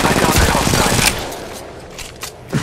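Video game gunfire bursts in loud, rapid automatic volleys for about a second, then trails off into fainter scattered shots.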